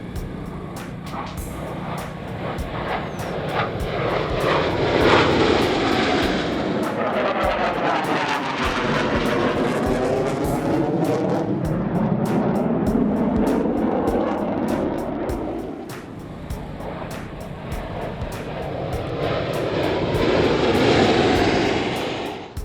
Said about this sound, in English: They fly with great precision. This is called flying in formation.